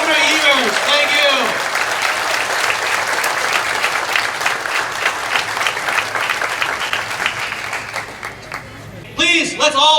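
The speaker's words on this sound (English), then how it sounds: "Can we just give him another round of applause, please?" A large crowd at the Hmong Wausau Festival 2024 bursts into loud, sustained clapping that holds steady, thins toward the end, then is followed by a brief voice.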